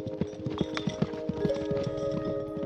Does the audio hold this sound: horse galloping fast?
yes